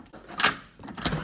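A hotel room door lock at a resort in Phuket rattles and clicks open, with two quick bursts of metallic scraping and clacking close by, no talking.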